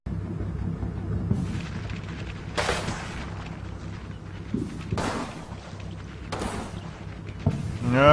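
Artillery fire in the World War II tactics game Combat Mission Red Thunder lands as repeated distant booms, four or five rumbling blasts spaced a couple of seconds apart over a low, steady battlefield drone.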